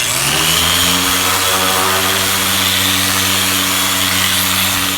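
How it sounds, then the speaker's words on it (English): A dual action sander runs continuously at close range on the body of a 1967 Dodge Coronet, a loud steady whirring drone with a harsh gritty hiss over it. "Using a dual action here, get all the straight and easy parts sanded down"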